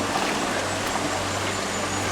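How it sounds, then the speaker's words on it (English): Clean stream near Whanarua Bay, New Zealand, rushing in a steady, close, broadband wash with no pauses or voices. "Beautiful clean streams."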